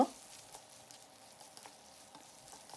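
Vegetable curry with added green chilies sizzling in a pan while being stirred, a soft crackle with a few light scraping clicks, faint and close, no talking.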